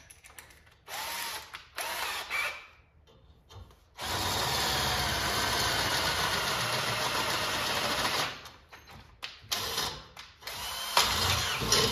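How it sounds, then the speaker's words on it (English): A power drill whines steadily through metal for several seconds, preceded and followed by short bursts of drilling and brief pauses. "When you're drilling metal, be careful with your drill."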